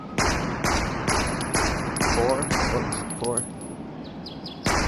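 Rapid bursts of AK rifle fire in the VR shooter AimXR, four loud, evenly spaced cracks, then a brief lull before another shot at the end; no talk is heard over the shots.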